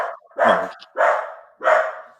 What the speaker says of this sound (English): this dog going crazy